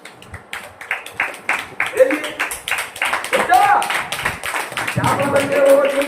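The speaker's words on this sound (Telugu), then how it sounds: "గట్టిగా చప్పట్లు కొట్టు" Rhythmic hand clapping in a church, steady claps running continuously under loud talking and musical tones, fairly near and prominent.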